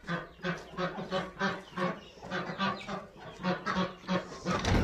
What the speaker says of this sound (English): I just put all of the babies out with the bigger chickens.